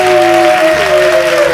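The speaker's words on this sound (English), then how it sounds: "let's just give her a round of applause." An audience gives a round of applause, a short, loud spell of clapping with a steady sustained tone sounding over it.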